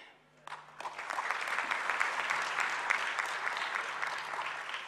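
An audience at a speech by the Prime Minister breaks into applause after a sudden onset, a dense, steady clatter of many hands that holds for several seconds with a faint low hum beneath.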